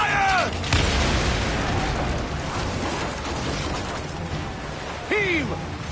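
Ship cannons firing a volley in the Assassin's Creed Origins video game: a loud boom at the start and another near the end, over a dense battle din, with shouted commands.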